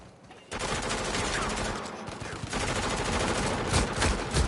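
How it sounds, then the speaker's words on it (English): Grenade blast and sustained rapid gunfire from an Uncharted multiplayer match, loud and dense throughout after a brief quiet start, with bursts and booms layered together and voices faintly mixed in. "Somebody threw a grenade."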